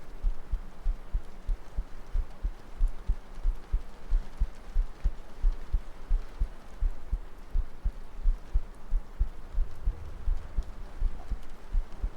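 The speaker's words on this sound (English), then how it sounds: "Let me see if I can make heartbeats work." Steady, fairly fast heartbeat played as a soft ASMR sound effect, with regular low thumps repeating throughout under a faint hum.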